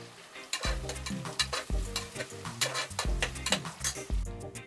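Sliced onions and green chillies frying in a pan for tomato rice, a close sizzle under busy rhythmic scraping and clinking of a spoon against the pan.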